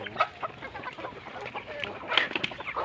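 A flock of pet chickens clucks close by, with several overlapping short clucks and squawks in an uneven rhythm, fairly loud and with no talking.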